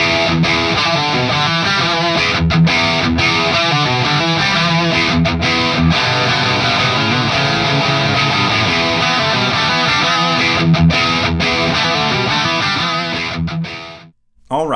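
Distorted electric guitar played through a BluGuitar Amp1 Iridium into a Marshall-style 4x12 cabinet loaded with Greenback speakers, miked with a blend of a 57 and a 121; a loud, continuous saturated riff that cuts off sharply at the end.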